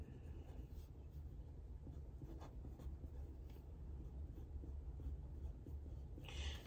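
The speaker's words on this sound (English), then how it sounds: "Now you want to write your name on the piece of paper." A permanent marker scratches across paper in short soft strokes, faint and close over a low background hum.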